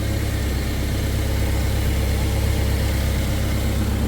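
A car engine, one of a pair for sale with spare parts, idles steadily and smoothly nearby with a constant low rumble and no talk.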